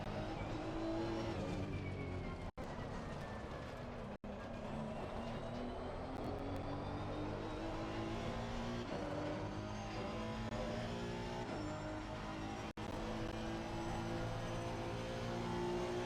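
A race car in a video game drives on continuously, its engine droning with rising and falling pitch as it shifts and accelerates, fairly faint and steady with no voices over it.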